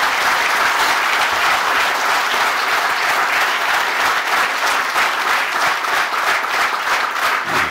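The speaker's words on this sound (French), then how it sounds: "et bien sûr que vous pouvez applaudir" An audience applauds after a speech at a federal union gathering, producing sustained, dense clapping from a large crowd that stays loud and even throughout, with no voices rising above it.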